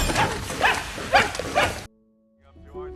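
Cartoon dog barking loudly in the animated film Hotel Transylvania 3, four quick, close, yappy barks in a row, followed by a short pause and quiet musical tones.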